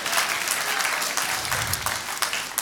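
An audience at a Shark Tank-style entrepreneur night applauds steadily, a dense, loud burst of clapping with a few cheers that fills the whole moment.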